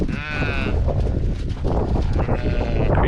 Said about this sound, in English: Crazy sheep.